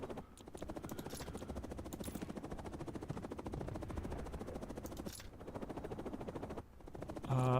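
Helicopter in the video game Cold War: a steady, loud rotor thrum with dense rapid chopping pulses, mixed with bursts of battlefield gunfire, continuing throughout with brief dips.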